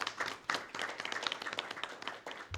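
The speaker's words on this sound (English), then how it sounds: "we should give them a round of applause" Applause from a small audience at a high school athletics championship press briefing, a short burst of clapping that rises and runs steadily for a couple of seconds, moderately near and unaccompanied by speech.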